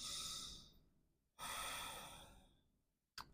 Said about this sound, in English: Last big breath here.